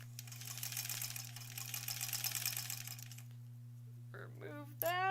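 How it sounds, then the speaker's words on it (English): A sewing machine back tacking across a quilt block, a fast close mechanical whir for about three seconds over a steady low hum, then stopping as brief handling sounds follow. "I'm going to just keep on back tacking here."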